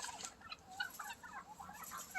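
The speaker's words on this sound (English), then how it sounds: "guinea fowl are so good at dying" Guinea fowl calling from a winter enclosure, a string of short, harsh chattering cries repeating irregularly at moderate distance over a faint background hiss, with no talking.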